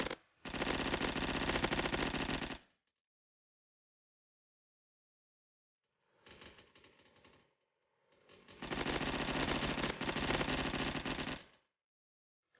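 Video game gunfire comes in two long sustained automatic bursts with a shorter, quieter burst between them, separated by silence, dense and rapid.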